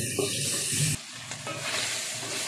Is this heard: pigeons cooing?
no